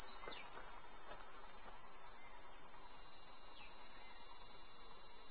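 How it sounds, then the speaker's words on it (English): Steady, high-pitched buzzing of cicadas drones continuously throughout, loud and unbroken, with faint rustling underneath and no voices, at a hot campsite below a large cactus. "Hear the cicadas?"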